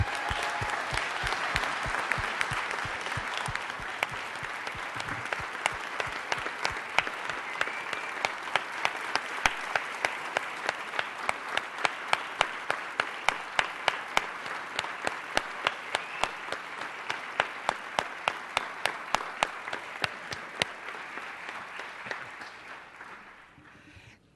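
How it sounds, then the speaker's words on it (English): An audience at a city council meeting applauds, the clapping starting as a dense wash, then settling into a more rhythmic, distinct pattern before fading out at the end. "let's give our Olympians a round of applause"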